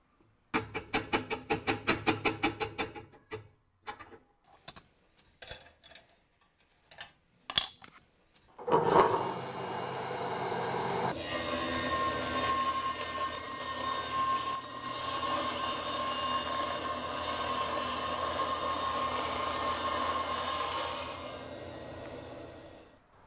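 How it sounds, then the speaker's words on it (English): A power saw rips a narrow strip off a wooden board, opening with a string of rhythmic knocks and taps before the blade winds up with a loud, steady whine that cuts through the wood for about twelve seconds and then stops. "Now I'll cut off a strip"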